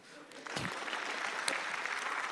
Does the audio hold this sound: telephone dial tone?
no